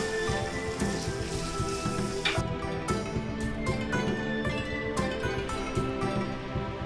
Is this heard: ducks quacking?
no